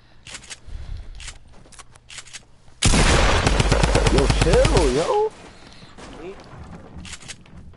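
Video game gunfire in one dense rapid burst of automatic shots lasting about two seconds, loud and close, with a voice talking over it and quieter game noise before and after.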